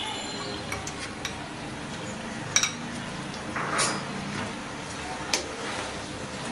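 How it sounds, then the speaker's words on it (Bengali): A spoon stirs spice powder into raw green mango sweet-and-sour pickle in a bowl, with sparse light clinks and scrapes against the dish under a quiet kitchen background. "এখন মশলাটা ভালো করে মিশিয়ে নিব।"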